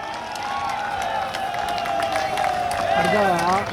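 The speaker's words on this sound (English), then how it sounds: "ask the men to give you a big round of applause" Audience members at an AIRF centenary convention applaud the union's women delegates, sustained clapping and cheering spreading under a speaker's amplified voice.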